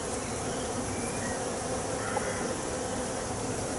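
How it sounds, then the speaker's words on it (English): Honeybees disturbed during a hive inspection, after frames are dropped back in, buzz in a dense, steady drone that fills the whole clip at close range, with no speech. "me dropping in the frames has disturbed the bees a bit, but they settle down quite fast"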